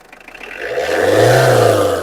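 A used car's engine revs up at a roadside used-car dealer, rising from a low rumble to a loud, close droning whir that holds steady for a moment.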